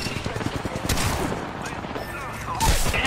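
Video game gunfire crackles in quick bursts during a multiplayer match, close volleys with a heavier burst toward the end, mixed with game noise and a player's talk.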